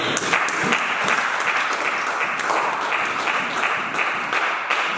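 A church congregation applauds loudly and continuously during a worship service, a dense, steady wash of clapping from many hands that fills the room without pause.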